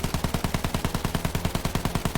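Machine gun fire in Battlefield 1 on the Galicia map, one long sustained burst of rapid, evenly spaced shots, loud and close with no talk.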